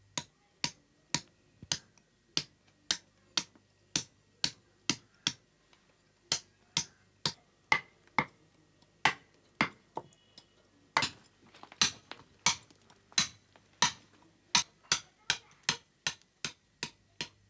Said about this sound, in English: The outline is chipped with a sharp chisel to define the edges and facilitate the carving.